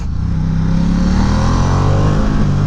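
A Ducati XDiavel motorcycle engine while riding, a first-year bike, gives a loud, steady, close-up rumble with a rising tone as it pulls. No one speaks over it.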